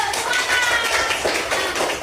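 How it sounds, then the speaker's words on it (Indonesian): A classroom of students claps for a group that has just finished presenting, a steady patter of many hands close by with a few voices mixed in. "Ayo tepuk tangan dulu"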